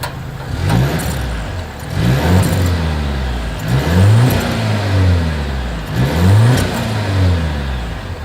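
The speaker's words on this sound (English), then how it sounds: "exhaust clip." A 2023 Volvo XC90's exhaust is revved three times in a row. Each throttle blip rises quickly and falls back toward idle, heard up close with no talking.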